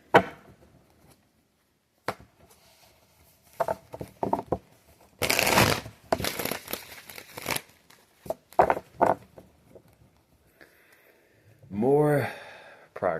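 Cards are riffled and shuffled in several quick bursts, separated by pauses, with a few brief sounds of a person speaking in between.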